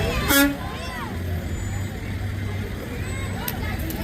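A truck pulls a small parade float with Grinches aboard through a Christmas lights parade, its steady engine rumble running throughout beneath crowd chatter, with a brief louder burst near the start.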